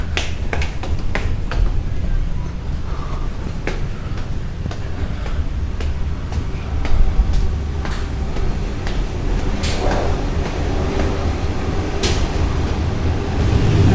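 A Sydney train arrives at Ashfield station in the Inner West, heard from inside as a loud continuous low rumble with rattling, sharp clicks and knocks scattered across the ride.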